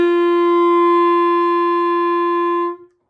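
A single long clarinet note played with a supported embouchure, full and steady with strong overtones, sustained alone for nearly three seconds before stopping cleanly.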